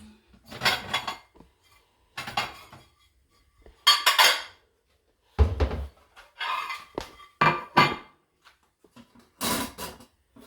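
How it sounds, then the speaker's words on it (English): Plates and dishes clatter and clink in a home kitchen as one is lifted off a stack, a series of separate knocks and scrapes with short pauses between them, close and fairly loud. "Let me get a plate"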